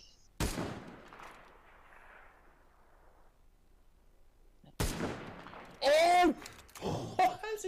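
Gunshots in the video game Cyber Hunter: two hard, loud reports several seconds apart. Players talk after the second shot.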